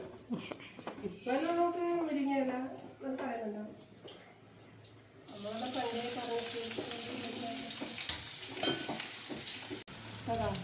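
Garlic and mustard seeds sizzling as they fry in a pan, a bright hiss that swells midway and carries on steadily, with people talking over the cooking at first.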